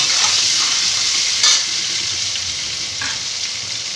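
Potatoes and pointed gourd, seasoned with turmeric and salt, sizzle steadily in hot oil while being browned, with a couple of louder stirring scrapes cutting through the constant hiss.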